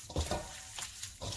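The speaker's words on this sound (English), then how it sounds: "then just thoroughly mix the sauce into the meat" Sticky, wet squelching and slapping as sauce is thoroughly worked by hand into raw beef for homemade jerky, a short close burst of soft irregular smacks.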